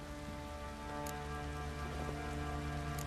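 Steady heavy rain pours down continuously in the video game The Witcher 3: Wild Hunt, a dense hiss of drops with a low rumbling undertone and no voices.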